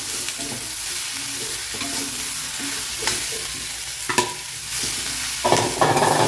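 Three cut capsicums are tossed into a pan and fried, with a loud, close sizzle throughout, broken by repeated scraping stirs and a few louder knocks and splashes of the pieces landing.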